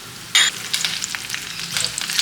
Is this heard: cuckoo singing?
no